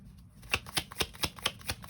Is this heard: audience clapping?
no